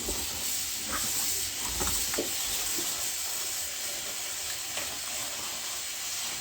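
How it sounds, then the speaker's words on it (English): A strong, even hiss of tap water pours over eggplants being rinsed in a kitchen, with faint clunks and handling sounds scattered through the steady flow. "I'm gonna go ahead and rinse these eggplants"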